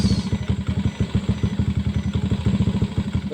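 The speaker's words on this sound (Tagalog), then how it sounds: "pwede na natin patayin yung makina" A motorcycle engine idles with a steady, rapid thumping beat and metallic clatter, close and continuous throughout, with no talking.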